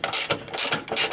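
A ratchet wrench clicks in quick rapid bursts while tightening the last bolt of a Toyota Corona Premio rear engine mount, close up with no talking.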